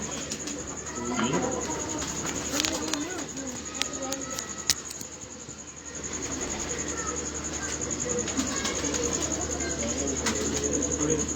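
Pigeons coo repeatedly close by, a steady low cooing running throughout, with people talking over it and a constant high whine in the background.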